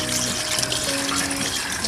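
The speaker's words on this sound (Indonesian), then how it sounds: "Airnya harus mengalir ya." Running water from a tap pouring steadily over hands being rinsed, a soft continuous hiss and splash, close and moderately quiet, with no talking.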